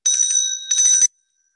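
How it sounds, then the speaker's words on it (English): A bright electric bell rings in two rapid trilling bursts, loud and close, then stops abruptly. "Now the bell is ringing."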